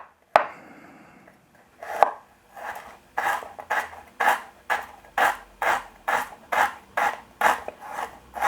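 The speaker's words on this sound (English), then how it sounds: "we're going to really finely slice this as well" Knife finely slicing food on a cutting board for a salt and chilli soft shell crab dish, about a dozen crisp rhythmic close-up cuts that speed into a steady pace, no talking.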